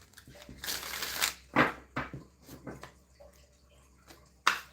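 Playing cards are riffled and shuffled by hand in quick bursts of papery flapping and soft slaps, several separate shuffles close up with short pauses between, no talking.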